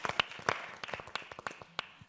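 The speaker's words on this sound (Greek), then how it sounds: "θερμό χειροκρότημα" Scattered, sparse claps ring out from an audience at a traditional music evening in Greece, individual sharp hand claps rather than a dense ovation, fairly close and moderately quiet.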